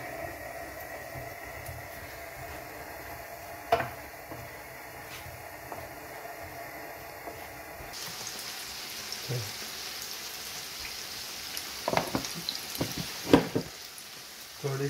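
Vegetable omelette mixture frying in a pan, a soft continuous sizzle that grows brighter partway through, with a few spoon or spatula clinks and scrapes near the end, close and moderately quiet.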